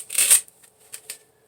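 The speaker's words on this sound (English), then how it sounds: "I'm cutting the pool noodle back at a 45-degree angle at the top" An old Chinese pull-stroke back saw slices through a foam pool noodle fitted over a stick, one loud close rasping stroke followed by two shorter, softer pulls, then quiet.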